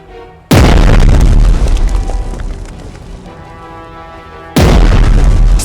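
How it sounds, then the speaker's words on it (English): Two massive battleship gun blasts from the strategy video game Strategic Mind, bombarding enemy infantry, each a deep, loud boom with a long rumbling tail, spaced about four seconds apart. "Choose the second gun and bombard the enemy infantry twice."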